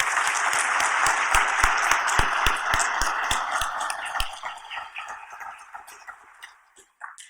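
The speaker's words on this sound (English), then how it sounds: "let's give a huge round of applause for our community champions" An audience at a county charity giving celebration applauds its community champions, dense clapping that swells and then tapers off toward the end, with some talk mixed in.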